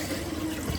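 Tap water runs steadily while native chicken is rinsed clean in a sink, a short continuous splash and gurgle close by with no talking.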